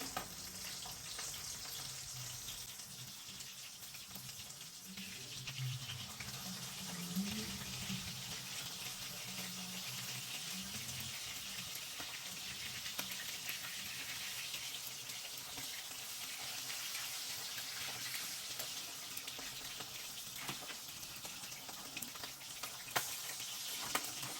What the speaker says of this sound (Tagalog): Kaya nagpiprito ako sandali.